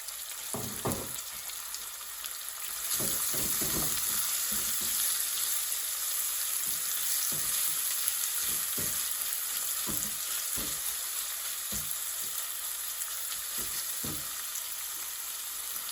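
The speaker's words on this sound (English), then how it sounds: "All we're going to do now, guys, is caramelise the onion." Onion sizzles in a hot pan with a constant frying hiss that jumps louder partway through, while a utensil scrapes and stirs with repeated soft knocks and clatters, close and quiet, no voices.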